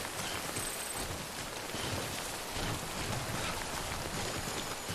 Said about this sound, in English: please let the timefall stop